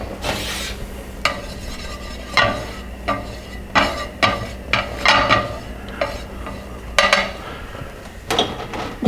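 Shrimp sauté in olive oil over a medium-low flame, a steady sizzle punctuated by repeated metallic clinks and scrapes of a utensil stirring against the pan, close and clear.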